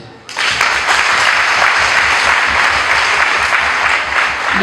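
A church congregation breaks into sustained applause, a loud, dense wash of clapping that starts suddenly and continues evenly throughout, with no speech over it.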